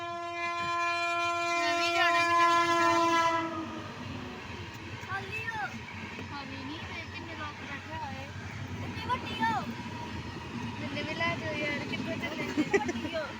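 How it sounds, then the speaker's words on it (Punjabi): At a railway level crossing in Punjab, a train horn sounds loudly at first, then the rumble of a passing train continues under people chattering and calling out nearby. "ਇੰਤਜ਼ਾਰ ਦੀ ਘੜੀਆ ਖਤਮ ਤੇ ਆ ਗਈ ਆ ਜੀ ਟ੍ਰੇਨ"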